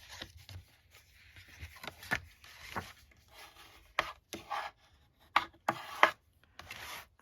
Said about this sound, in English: I'm going to use my bone folder. Let's give this a bit of a burnish.